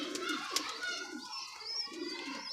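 Soft pigeon cooing repeats through the clip, low throaty calls close by, with faint rustling and a few brief clicks around them.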